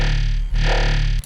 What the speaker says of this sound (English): Now add a sub bass. Now try distortion, then enable the OTT inside Serum.